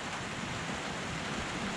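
Rain falls steadily over a jungle farm, heard from a hammock as a continuous, even hiss of drops on leaves and surfaces with no breaks.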